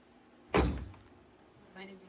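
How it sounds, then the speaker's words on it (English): The door of a Camaro race car project shuts with a single solid thud, close and fairly quiet, followed a moment later by a faint soft sound. "door closes nice"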